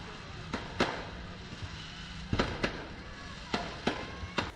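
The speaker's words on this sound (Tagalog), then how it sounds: "Tinapos ang presteryosong event na ini sa engrandeng fireworks display." Fireworks bursting at the close of a prestigious youth sporting event in the Philippines: a string of sharp distant pops and bangs in irregular pairs over a steady crowd murmur, fairly faint and outdoors.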